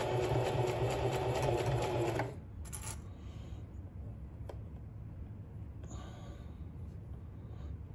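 A sewing machine stitches a ski muff in a steady, close run that stops after about two seconds, leaving quiet handling clicks and faint shuffling.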